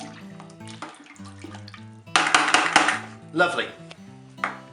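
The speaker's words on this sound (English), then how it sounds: "What we're going to do is give it all a good stir in." Swollen nectarines in homemade nectarine wine must get stirred in a container, with sloshing, liquid churning bursts rising and falling, while a voice speaks briefly over it.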